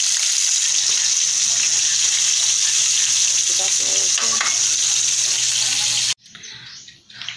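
Chicken frying in olive oil gives a loud, steady, close sizzle that stops abruptly, leaving quieter background clatter.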